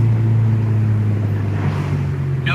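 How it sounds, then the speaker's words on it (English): A Honda Integra Type R with a K20A engine and HKS exhaust idles in a steady, close, low rumble that holds even and unbroken. "Sounds amazing. The HKS is my favorite exhaust."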